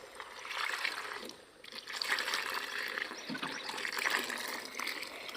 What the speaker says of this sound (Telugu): మందు కలుపుతున్నారు, మందు కొడతారంట ఇప్పుడు.